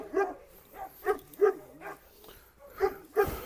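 A Kangal and a Rottweiler give a series of short, whiny barks and whimpers at an irregular pace, close by and moderately loud, with no talking.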